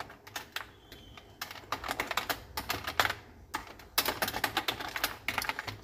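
Rapid typing on a computer keyboard while writing HTML, a steady patter of close, crisp keystrokes in bursts with short pauses, heard alone without talk.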